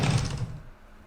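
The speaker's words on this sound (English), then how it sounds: "My door smashed open." A door smashes open with one sharp, loud wooden crash that decays quickly into quiet, part of the apocalyptic texting game Last Message.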